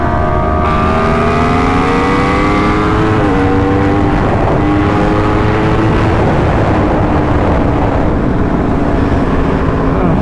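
A Yamaha R1 motorcycle on a street race run screams loud and close, its engine tone climbing through the gears before blending into a roaring rush of wind and exhaust noise.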